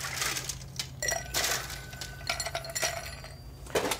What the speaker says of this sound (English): put some ice cubes in the glass.